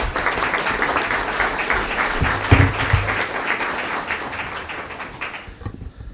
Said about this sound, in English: Another round of applause, everybody.